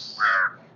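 A single crow caws once, close and clear, a short harsh call lasting under half a second against a quiet background.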